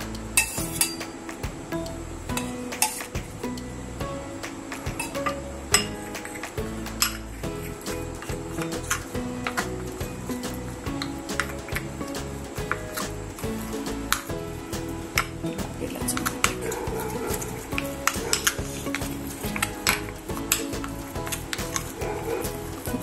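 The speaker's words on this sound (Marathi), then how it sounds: "त्याच्यामध्ये आपण आता तूप घालूया, 4 चमचे 3-4 चमचे, म्हणजे हे चांगलं फेटून घेऊया" Cornflour being whisked with ghee in a bowl for Maharashtrian karanji dough, giving quick, irregular clinks and scrapes of a spoon against the bowl, fairly close and moderately quiet.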